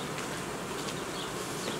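Dense, steady buzzing of honey bees in a small improvised nucleus colony, heard up close and continuous throughout, with no voices.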